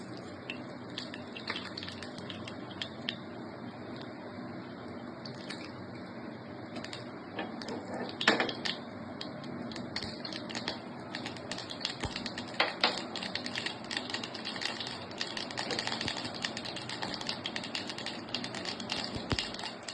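Mustard seeds crackling and popping in hot oil for a tempering while a gravy is made, a steady patter of small sharp pops and sizzling throughout, fairly close and moderate in level.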